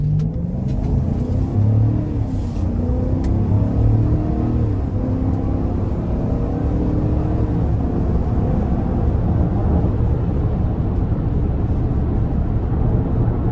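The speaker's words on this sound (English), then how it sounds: "So a very strong engine, of course." A 2025 GMC Yukon XL Denali Ultimate accelerating in sport mode, its engine a steady loud rumble with rising harmonic tones as revs climb and shift, heard from inside the cabin without talk.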